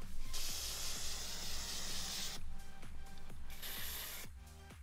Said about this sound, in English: So I sprayed one of my coolers black for science.